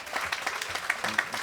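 A Parents' Day audience at a school applauds a student called forward, brief scattered clapping with a few louder hand claps near the front.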